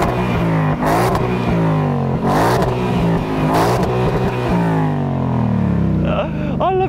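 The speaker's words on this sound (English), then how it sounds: "Ford lets you enjoy the full musical delights of their V8 when you're stationary" A 2022 Ford Mustang Mach 1 V8 revs hard while parked, repeated throttle blips rising and falling in a deep loud roar, with a voice briefly heard near the end.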